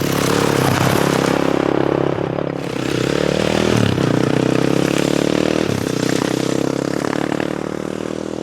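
A Kawasaki KLX450R supermoto rides on dirt roads, its engine a loud, continuous drone that rises and dips slightly in pitch, with rattling and gravel scraping mixed in close to the recorder.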